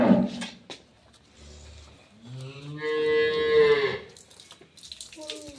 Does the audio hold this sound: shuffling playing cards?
no